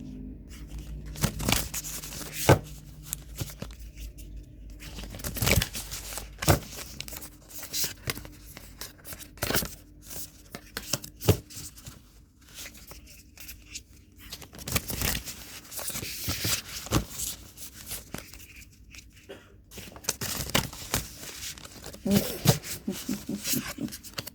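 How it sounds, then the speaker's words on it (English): Oracle deck cards being shuffled by hand, a run of crisp riffling, flicking and rustling bursts in irregular clusters, close and fairly quiet, with soft talk at times. "I'm going to shuffle the cards."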